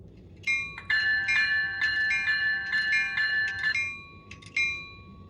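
A model train locomotive bell rings in a quick, regular, bright clanging rhythm at close range. The ringing lasts several seconds, pauses, then gives a few more strikes.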